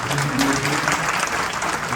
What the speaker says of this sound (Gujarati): આપણે તાળીઓના ગણગણાટથી